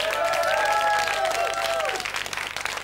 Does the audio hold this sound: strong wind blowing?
no